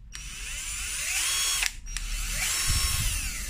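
An INGCO 18V cordless screwdriver runs in two close, loud bursts, its whining motor rising in pitch with each spin-up and a brief pause between, with no talking.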